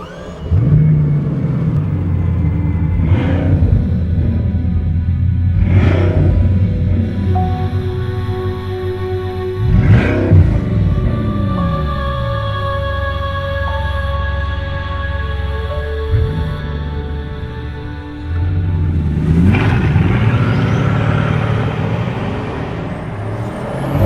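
A Bugatti Chiron supercar's engine, a machine of almost 1,500 horsepower, revs close and loud in repeated rising surges with a deep rumbling idle between bursts.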